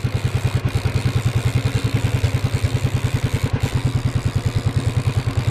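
A fishing boat engine runs steadily while trolling for big fish at sea, a loud, close, rhythmic thumping chug that keeps an even beat throughout with no talk.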